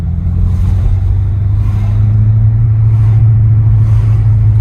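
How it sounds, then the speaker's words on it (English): The V8 of a 2023 BMW F90 M5 Competition LCI drones loud and steady from inside the cabin, a deep continuous engine rumble with slight swells in pitch while driving. "It now sounds proper, like that V8 has really been woken up."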